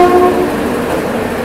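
The Konark Express 11019 stands at a reversal stop as a Vijayawada-shed locomotive is attached, with a loud steady rail rumble and a brief high horn-like tone at the start, close by.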